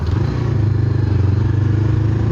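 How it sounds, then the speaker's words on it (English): A Honda CBR500R sport motorcycle idles close by with a steady, throbbing low rumble and faint mechanical clatter. "hopefully my exhaust is quiet enough for this place"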